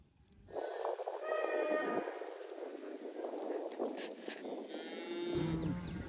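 Mashona cross calves and cattle moo loudly and close, with long drawn-out lowing calls overlapping through the stretch and a final call near the end.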